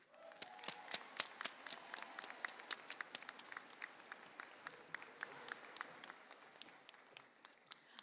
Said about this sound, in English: give all of our teachers a round of applause to show them how much we appreciate them